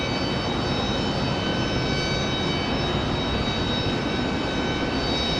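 A Lufthansa airliner arriving at Raleigh-Durham airport gives a steady, loud, broadband jet roar with a faint high whine, continuous throughout and with no talk.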